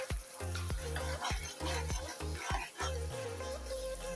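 Spice paste sizzles and sautés in a pan for a papaya curry, with repeated sharp scraping strokes of a spatula against the pan over a steady frying hiss, moderately quiet and close.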